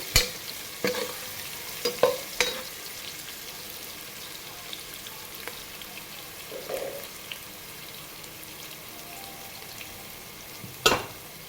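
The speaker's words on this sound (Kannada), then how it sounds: "ಹಾಕ್ಕೊಂಡು ಚೆನ್ನಾಗಿ ಮಿಕ್ಸ್ ಮಾಡ್ಕೊಳ್ಳಿ. ಸೊ ಈರುಳ್ಳಿ ಸ್ವಲ್ಪ ಫ್ರೈ ಆಗಲಿ." Chopped onions fry with salt in a pan for a ridge gourd dish, a faint steady sizzle under occasional spoon scrapes and clanks, clustered at the start and with one sharp knock near the end, without speech.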